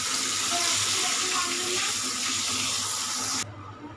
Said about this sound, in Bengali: দিয়ে দিব একটু পানি